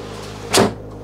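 A hinged storage panel in a camper van bathroom pivots open with a single short, soft thump and brief scrape, close by over a low steady hum.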